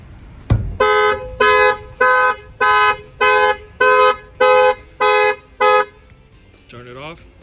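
Alarm on a Mercedes GLC43, set off by banging on a tire, blares in eight loud, evenly spaced tonal blasts after a single sharp thump, then stops, with a brief voice at the end.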